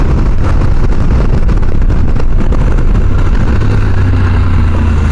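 A CFMOTO 800MT-X motorcycle rides past, its engine a loud, steady roar that swells and then settles into a lower, sustained drone.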